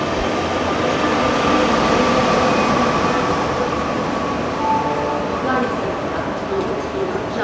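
Samta Express, a Visakhapatnam–Hazrat Nizamuddin train hauled by a Lallaguda-shed WAP7 electric locomotive, arriving at a newly opened, empty station: a loud, steady rolling rumble of wheels and coaches that runs unbroken throughout.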